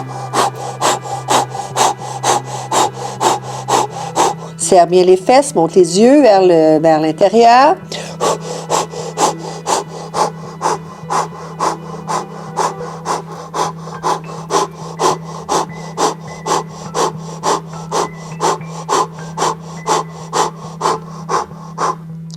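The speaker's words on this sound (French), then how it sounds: "je fais la respiration du feu pour 30 secondes" Breath of fire in a spring yoga kriya: sharp, rapid nasal exhalations pulse in an even, fast rhythm, close and loud, while an instructor speaks briefly over them.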